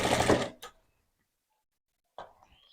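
A home sewing machine fitted with a zipper foot stitches piping in a short burst, followed by a pause, a faint click, and a softer restart.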